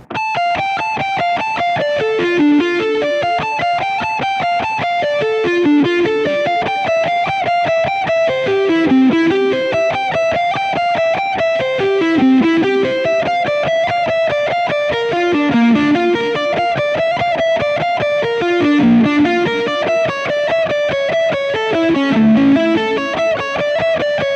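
An electric guitar with distortion and effects plays a repeating cross-picked arpeggio lick, fast, even and loud, cycling through the same descending pattern with no talk.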